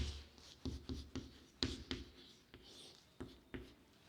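Pen or chalk writing notes on a board during a physics lesson on electric fields, heard as a series of short, close scratchy strokes and taps with pauses between them, without talk.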